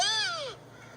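A hand-held crow call used for turkey hunting, imitating a crow: a single loud, close caw that slides downward and then fades, with no talk.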